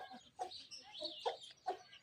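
A hen sitting on a full clutch of eggs gives a few short, soft clucks and murmurs close by, spaced irregularly with quiet gaps between.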